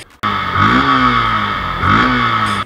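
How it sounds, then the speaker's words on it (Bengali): A Yamaha Fazer motorcycle engine, poorly serviced and sounding off, revs hard twice in close succession, each rise climbing sharply before settling into a loud, steady roar with no talk. "আবার এই বাইকটার ইঞ্জিনের সাউন্ড অনেক পরিবর্তন হয়ে গেছে।"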